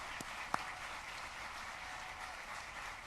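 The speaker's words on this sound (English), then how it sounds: "Let's just give them a nice round of applause" An audience at a city's State of the City address gives a round of applause, a dense, even wash of many hands clapping from a distance in a large hall, steady with no voices.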